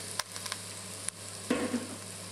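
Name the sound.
Chinese sausage sizzling in a pan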